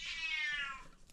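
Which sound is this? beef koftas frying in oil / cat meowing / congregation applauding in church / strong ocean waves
cat meowing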